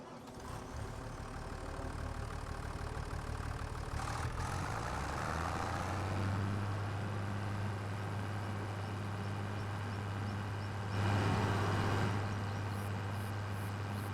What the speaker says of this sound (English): so let's grab the tractor